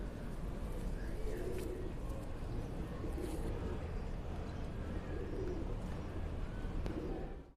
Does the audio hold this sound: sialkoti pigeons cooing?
yes